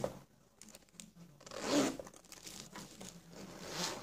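A zipper on a pocket of a black Bugatti cross-body bag (model 49512601), soft close zip pulls with crinkling handling noise, quiet and near, one longer run midway and another toward the end.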